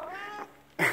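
A formerly wild cat that has moved into a house gives a close, drawn-out meow that slides downward, then a short pause and a sharper, louder cry.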